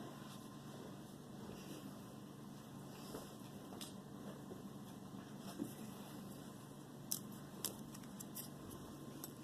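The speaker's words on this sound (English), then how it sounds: "we're just going to snip it right here" A few quiet, sharp snips of scissors cutting yarn near the end, isolated clicks over a faint steady background hum.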